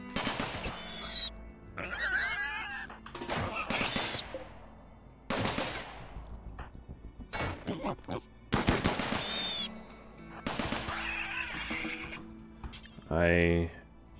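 Turrets fire in RimWorld, sharp bursts of rapid gunfire broken up by pauses, mixed with other game effects while a voice talks over parts of it.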